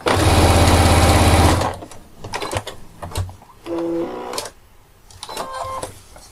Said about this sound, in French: je fais donc mon raccord en chevauchant de quelques points